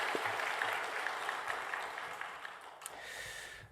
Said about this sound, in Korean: 이제 우리 감사와 영광의 박수 한번 올려드리면 좋겠습니다